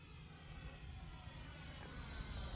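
An FMS 1450mm P-51 radio-controlled model airplane on its first flight of the season, a steady electric motor whine and airflow hum that swells slightly as it passes, with no voices.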